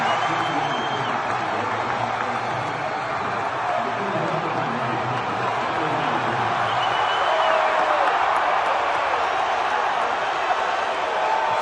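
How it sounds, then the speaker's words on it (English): A large stadium crowd screams and cheers as Donald Trump walks onto the field, a loud, sustained roar of voices with whistles and applause filling the whole stretch without letup. "The screaming, the cheering"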